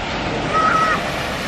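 Surf washing steadily onto an English seaside beach, a broad continuous wash with gentle swells, with a faint brief tonal squeal in the middle.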